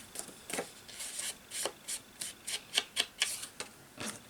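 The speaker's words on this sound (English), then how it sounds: "we better do some distressing, just to take that white off those edges there" Paper card edges are distressed to remove white, producing a series of short scraping rubs in an uneven rhythm, roughly a dozen quick strokes, close up and moderately quiet, with no speech.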